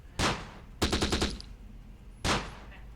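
Machine gun fire in the WW2 video game Close Combat, with three sharp bursts including one rapid rattling string, loud and close over a low background rumble.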